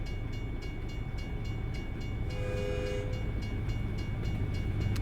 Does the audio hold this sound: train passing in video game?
yes